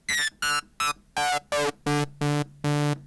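Synthesizer tone from Serum played as eight short, evenly spaced bursts whose pitch shifts from note to note, bright and buzzy with rich harmonics, clean and close with no voices.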